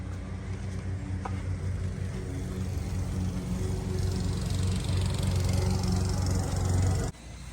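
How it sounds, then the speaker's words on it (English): A steady engine drone runs throughout, loud and constant like a nearby lawn mower, then cuts off abruptly near the end. "I apologize for the lawnmower"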